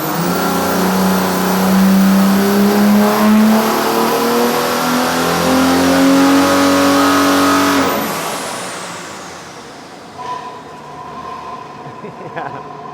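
An OM606 diesel engine on an engine dyno, tested with an aftermarket inlet, revs up loudly and steadily for several seconds, then cuts off abruptly and winds down, leaving quieter mechanical background noise.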